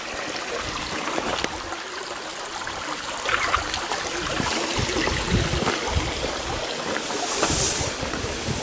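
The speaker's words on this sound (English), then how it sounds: "The bubbling brook again." Bubbling brook in Shepherds Combe on a hiking trail near Bicknoller, a steady broadband trickle and gurgle of running water continuing throughout, close and even in level, with no speech.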